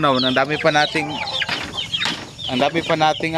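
Native Basilan and Zampen chicken chicks peeping and cheeping close by in a busy, overlapping chorus, with bursts of calls and brief lulls.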